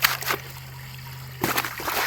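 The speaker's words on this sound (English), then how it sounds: "All we're doing now is just washing the rocks off" Water splashing and trickling as gemstone gravel is washed up and down in a 1/8 inch screen, a steady wet rush with louder sloshing bursts at the start and end.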